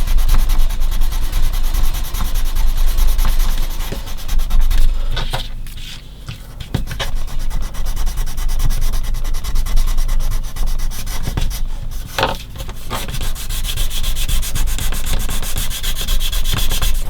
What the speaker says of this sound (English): I'll just try to sand those bits over to see if I can do.